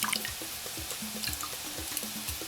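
Red wine glugs from a bottle into a sauce for duck breast, a quick rhythmic series of close, bubbly pours with light splashing, with no talk.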